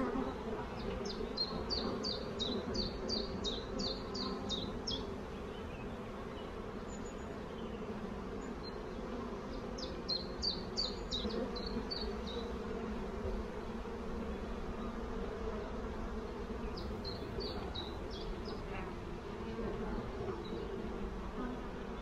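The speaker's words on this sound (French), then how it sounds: "J'ai des abeilles fort noires, ça va être à surveiller." Dark, almost black honeybees hum steadily during a spring hive inspection, a dense continuous buzz close by with no voices over it.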